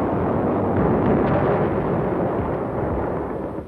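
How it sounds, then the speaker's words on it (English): Naval bombardment explosions from archival Korean War footage, heard as a continuous loud, dense roar of blasts and rumbling booms that fades slightly toward the end, with no speech. "To confuse the enemy, bombardments were directed at other coastal cities"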